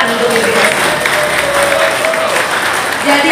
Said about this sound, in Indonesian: Tepuk tangan untuk PBSB.